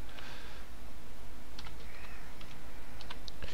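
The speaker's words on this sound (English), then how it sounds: "Yeah, I type kind of slow." Slow, uneven keystrokes on a computer keyboard, faint irregular clicks in small clusters over steady background hiss, with no talking.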